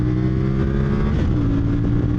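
A 2025 CFMOTO motorcycle engine revs up loudly and close, its pitch climbing steadily through a single continuous pull with a buzzy, layered exhaust tone.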